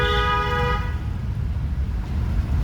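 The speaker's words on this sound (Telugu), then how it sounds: "హారన్ చేయండి ఈ పర్సన్ కోసం" A single car horn honks briefly at the start, then fades into the low steady rumble of a vehicle engine and road noise.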